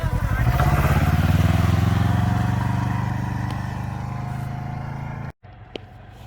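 A 2021 Can-Am Ryker three-wheeled motorcycle accelerating: a close, loud engine roar that climbs and then eases as it pulls away, followed by a sudden drop and faint clatter.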